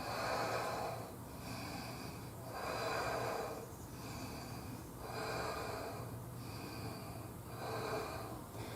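Steady, slow breathing during a seated yoga twist in a postpartum class, with long inhales and exhales repeating in an even rhythm against a constant low background hum.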